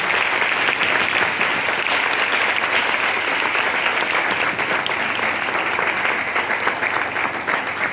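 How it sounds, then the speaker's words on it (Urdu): A church congregation claps loudly after a sermon, dense continuous applause from a large crowd that holds steady and close throughout without letting up. "اس کلام اقدس کے لیے زوردار تالیاں بجائیں۔"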